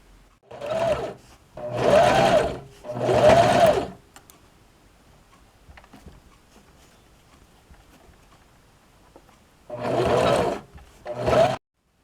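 Sewing machine stitching rug binding, running in four close bursts of steady whirring with short pauses, then a quiet stretch before two more bursts, loud and near.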